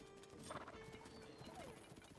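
Golden horse in Tears of the Kingdom, hooves clip-clopping steadily with a short whinny partway through, faint and under a dense layer of game ambience and music.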